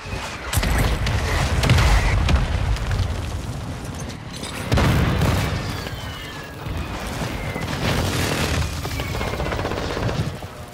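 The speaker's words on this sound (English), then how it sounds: "Friendly mortar strike on the way." Mortar strike explosions boom in Call of Duty: Modern Warfare II, a series of loud heavy blasts with rumbling tails, the strongest bursts near the start and around the middle, followed by sustained crackling impacts.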